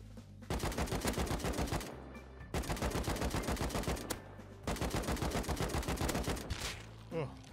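AK rifle fire in the Rust video game: three sustained bursts of rapid automatic shots, each lasting over a second, separated by short pauses and heard loud and close.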